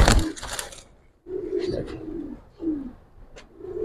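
Giribaz pigeons coo in a few soft, rolling phrases close by, separated by short pauses, after a brief burst of rustling or flapping at the start.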